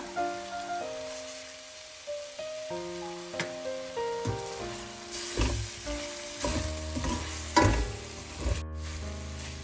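A sautéed vegetable curry filling for buns sizzles in a pan while it is stirred, giving close, steady frying crackle with soft scraping stirs over a tonal hum and no talking.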